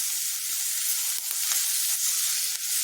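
Mango seed and curry leaves fry in a pan with a steady, close sizzling hiss and a few faint stirring knocks, no voices.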